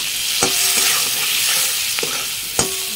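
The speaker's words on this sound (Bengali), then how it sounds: "আমি একটু নুন দিয়ে দেবো, দিয়ে আমগুলো একটু নাড়িয়ে চাড়িয়ে নিলাম" Mango pieces fry in hot oil in a pan with salt and turmeric, stirred with a spoon: a steady sizzle runs throughout, broken by a few sharp scrapes and knocks of the utensil against the pan.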